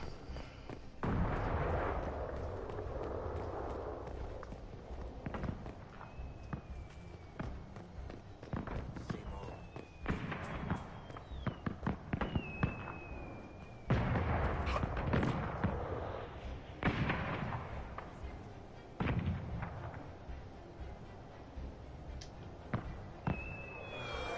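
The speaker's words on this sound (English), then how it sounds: "I want to go blow up some fireworks real quick." Fireworks bursting in the video game Dragon Age: Inquisition, a string of sharp booms and crackles scattered across the span, some loud, mixed with footsteps, game ambience and someone talking.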